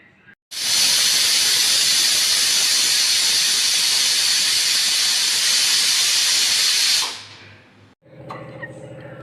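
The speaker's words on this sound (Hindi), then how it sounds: "अब हम इसको 2 सीटी आने तक पकाएंगे।" A pressure cooker vents steam with a loud, steady hiss while sweet dalia cooks, the rushing whistle running unbroken for about six seconds before cutting off, followed by faint kitchen clatter.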